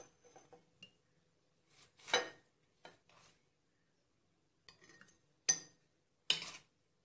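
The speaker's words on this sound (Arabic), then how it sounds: "دلوقتي هنعبي الفلفل يا حبايبي في البطرمان" Green pepper paste being spooned into a glass jar: sparse, separate clinks and scrapes of spoon on glass with quiet gaps between, close and soft, no talk.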